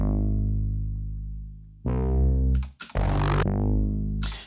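A deep, sustained bass note in a jazzy pop beat swells into a harsh, ripping distorted bass fill with bursts of gritty noise, then settles back to a softer tone, loud and up front with no voices.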